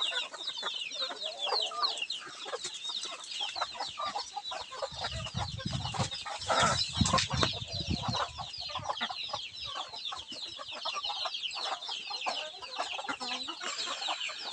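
Palawan native chickens cluck on a farm: a dense, continuous chorus of nearby clucks and chatter, with a low rumble swelling briefly in the middle.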